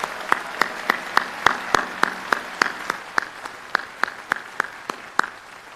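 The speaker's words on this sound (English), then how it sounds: "And so if we could give those folks a round of applause, I know they'd appreciate it." Scattered, slow applause at a commencement ceremony: a modest number of distinct claps, spaced and uneven, fairly close, with no voices over them.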